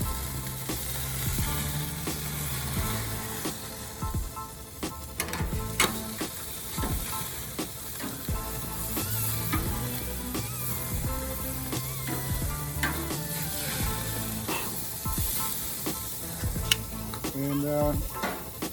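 Ribs sizzle on an oiled grill over an open fire, with a continuous crackling hiss punctuated by scraping and clinking of utensils, close and steady for the whole stretch.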